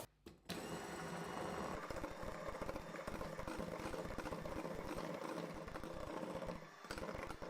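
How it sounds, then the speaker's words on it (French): An electric mixer whisks egg whites with sugar for chocolate coconut meringues, running as a steady, loud whirring drone almost without pause after a brief quiet start. "Lorsque les blancs acquièrent une texture un peu plus ferme, je peux verser le deuxième tiers du sucre et continuer à fouetter mes blancs."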